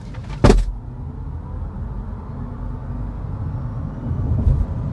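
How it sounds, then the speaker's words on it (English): Interior of a 2025 Hyundai IONIQ 5 under hard acceleration in sport mode: a steady low electric drive hum and road rumble, with a sharp clunk near the start and another thump near the end. "let's start with a very torque-filled hard acceleration"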